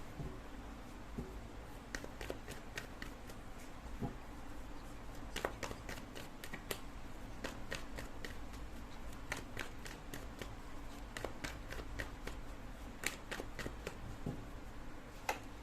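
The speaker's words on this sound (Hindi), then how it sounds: "तब तक मैं कार्ड निकालती हूँ।" Tarot cards shuffled and drawn by hand for a reading, giving a steady run of soft riffles and crisp snaps spread across the whole stretch over faint background hiss, with no voice.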